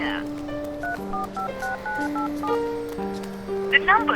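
A phone dials a call: a steady tone runs under a quick sequence of keypad tones at different pitches, followed by a brief burst of noise at the end.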